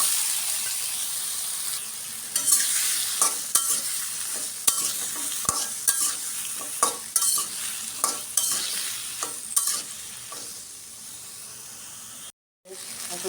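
Vegetables and spice masala frying in a pan in a home Bengali kitchen, a steady sizzle broken by repeated scraping stirs of a utensil, close and clear, with a short silent gap near the end.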